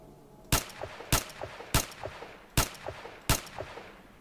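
Five sharp gunshots crack out from a battle in the shooter game STALKER: Shadow of Chernobyl, spaced irregularly, each followed by a short echoing tail and fainter distant shots between them.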